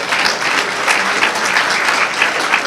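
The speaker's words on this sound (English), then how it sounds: "let's give him a round of applause just in spirit" A crowd at a holiday luncheon in an arena gives a round of applause, a sustained, even roar of many hands clapping at moderate volume with no talk over it.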